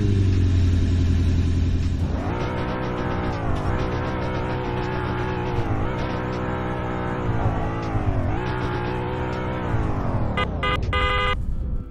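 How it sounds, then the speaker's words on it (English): A 2008 Lexus IS F sports car at a drag race event idles, then revs hard in repeated rising and falling surges, loud and close, closing with sharp rapid blips of the throttle. "Steve, give us the rev of your 2008 ISF."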